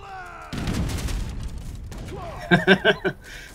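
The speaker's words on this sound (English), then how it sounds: "So that's enough cannons to take out even some goons at that point." Cannon fire and gunfire from a battle in the Age of Empires III strategy game, with a dense rumbling barrage followed near the end by four sharp, loud booming blasts in quick succession.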